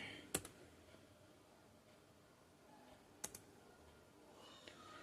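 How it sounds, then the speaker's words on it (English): A few isolated key clicks from a computer keyboard, quiet and spaced seconds apart, with a soft near click and faint room hiss between them. "Again I'm typing 15."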